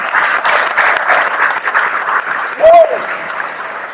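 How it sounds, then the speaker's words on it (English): Crowd applause fills the hall at a university homecoming convocation ceremony, a steady wash of clapping with scattered voices, with one short, sharp whistle-like cheer near the end. "clap it up for that"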